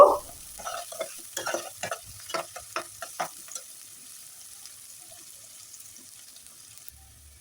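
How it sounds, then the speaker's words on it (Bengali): Chopped onion frying in oil, turned with a spatula in a burst of quick scraping stirs over a soft low sizzle, the stirring fading out and leaving a quiet background hiss, close up with no talking. "পেঁয়াজ কুচি দিয়ে দিলাম পেঁয়াজটাকে হালকা বাদামি কালার করে ভেজে নেব"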